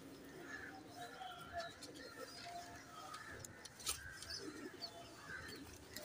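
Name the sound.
Bullet Saharanpuri cross pigeon chicks cooing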